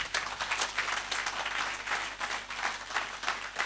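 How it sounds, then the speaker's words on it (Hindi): An audience at a network marketing sales seminar claps together in a dense, rhythmic burst of applause. It is fairly faint and carries on steadily with no talking. "ताली बजाओ"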